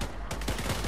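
Sniper rifle shots in the shooter game The Division 2, a few sharp cracks in quick succession over a dense, noisy game soundscape with steady background clutter.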